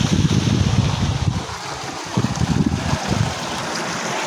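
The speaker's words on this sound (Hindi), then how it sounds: "घर में ट्यूबवेल भी आज जो है चल रहा है" Water from a tubewell pump at a household pours in a steady, rushing stream with a low broadband roar. It runs continuously at close range with slight surges, and no voices are heard.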